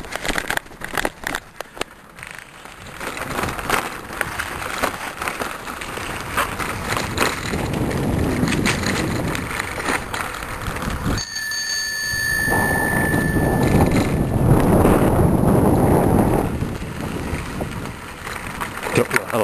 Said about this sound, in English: Don't know how long I can ride this trail. It's pretty bumpy.